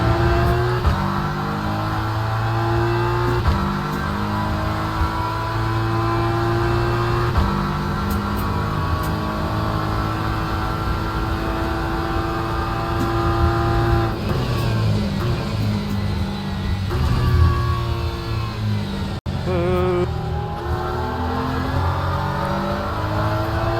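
A McLaren race car engine in a racing video game drones and revs steadily at close range, its pitch rising and falling through gear changes, loud and continuous with no talk.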